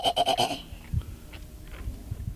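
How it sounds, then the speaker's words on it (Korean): Goats and sheep kept by Bedouin herders in the Jordanian desert, with a loud, close, quavering bleat at the start, followed by quieter shuffling and faint distant animal sounds. "8살 무스타파는 양과 염소를 돌보는 일을 열심히 배우고 있습니다."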